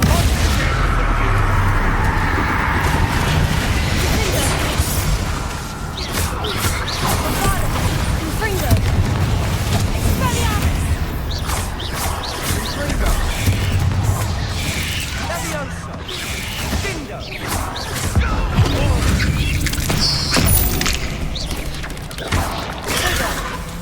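Confringo and Bombarda spell blasts in Hogwarts Legacy combat, booming and crackling repeatedly amid a dense, loud battle mix with sustained noise throughout.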